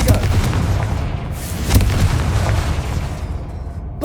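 A Confringo fire spell goes off in Hogwarts Legacy gameplay as a heavy booming explosion with sharp crackling bursts. The blast peaks loudly mid-way, then rumbles down over several seconds.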